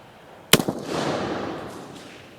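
A single sharp gunshot from an Uberti 1847 Walker revolver during outdoor Eras Gone Dragoon bullet testing, cracking loudly once and then rolling away in a long fading echo.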